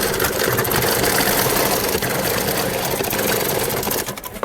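Steady sewing machine stitching cord into the side slit of a suit, running loud and continuously for about four seconds before slowing and stopping.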